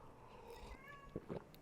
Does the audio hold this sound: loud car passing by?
no